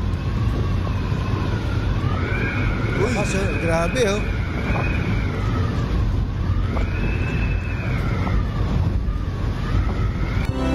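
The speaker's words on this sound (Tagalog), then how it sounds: "Pakinggan natin ang hangin na ating naranasan kagabi." Strong typhoon wind roars and howls steadily throughout, with rising and falling whistling tones, while a voice briefly speaks over it.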